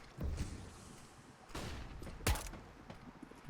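Desert Eagle pistol shots in a competitive Counter-Strike match: several sharp, punchy cracks spaced apart, one loud shot standing out, set over faint game ambience.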